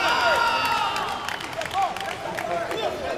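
A crowd cheers and applauds at a men's -80kg taekwondo final at the 2015 Summer Universiade in Gwangju, shouts and claps rising and falling in a busy arena, with a commentator talking over them throughout.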